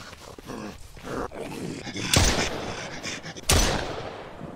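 Gunfire in the survival video game Mist Survival, two loud sharp booming shots a little over a second apart, with quieter rustling and game noise between them.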